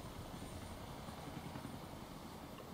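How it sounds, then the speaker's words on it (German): A helicopter in the video game Rise of the Tomb Raider gives a faint, steady rotor and engine drone that holds evenly throughout, with no speech over it. "Das war Konstantins Hubschrauber"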